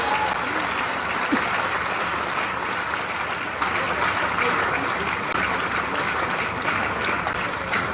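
Loud, sustained applause from a large audience at the inauguration of a defence exhibition, a dense, even roar of clapping that holds steady throughout without a break.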